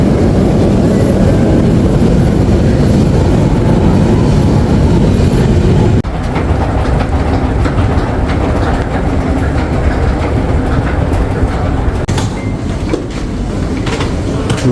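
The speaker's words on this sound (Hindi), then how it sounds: "ये मेरी मेट्रो आ गई है नंबर 5" A Brussels metro train on line 5 pulls into a station and runs on, a loud, close, steady rumble and roar with rail clatter that eases slightly partway through.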